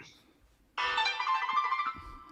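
A phone notification ringtone suddenly chimes in a workshop during hand-loading of 7.62x39mm rifle cartridges, a bright electronic warbling tone lasting about a second before fading, with faint background clatter.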